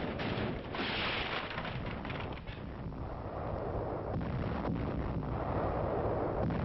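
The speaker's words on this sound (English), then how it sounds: "A church, apparently taken for an Allied OP, comes under heavy Nazi artillery fire." Heavy artillery fire pounding a church in wartime, heard as a dense, continuous roar of blasts and rumble, loud and sustained throughout with no talk.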